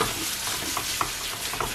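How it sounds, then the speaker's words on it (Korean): Pork for jeyuk bokkeum stir-fried in a hot oiled pan, giving a continuous soft sizzle with scattered clicks and scrapes of stirring, fairly quiet and close. "고기를 넣고 볶아줍니다."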